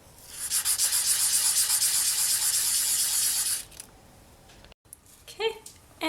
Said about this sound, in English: I'm just going to sand the surface until I get a nice, clean, white colour.